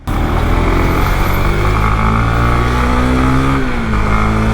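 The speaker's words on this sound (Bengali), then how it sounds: "এই যে এখন চালাচ্ছি না, সাউন্ড মানে ইঞ্জিনের থেকে আমার চেইনের সাউন্ড বেশি" A Honda CBR motorcycle being ridden, its steady engine drone close and loud alongside a noisy, rattling drive chain, continuous throughout with a slight pitch shift near the end.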